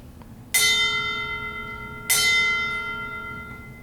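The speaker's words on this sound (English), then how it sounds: "The toll of the ship's bell reminds us of the reverence we owe to our departed shipmates." Two strikes of a ship's bell tolling at a naval memorial ceremony, each a sharp metallic clang with a long ringing decay, spaced about a second and a half apart in a quiet room.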